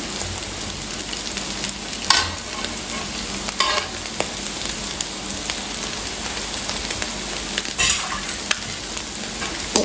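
Vegetables stir-frying with salt and pepper in a hot pan, a steady bright sizzle with scraping stir strokes and occasional louder clatters of the spatula, close and continuous with no talking.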